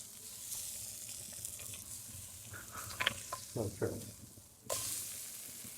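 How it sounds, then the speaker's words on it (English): A steady sizzle of steak frying in a hot pan, with a few clinks and scrapes partway through and a louder burst of hiss near the end. "I'm gonna let y'all hear this sizzle."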